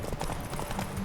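A horse gallops in a race in The Witcher 3, rapid rhythmic hoofbeats thudding close and loud for about a second.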